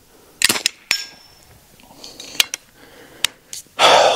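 Several sharp, loud shots from an AEA Element Max .50 caliber PCP air rifle charged to about 2000 PSI, fired in an uneven series with short gaps, ending in a longer burst of hissing noise.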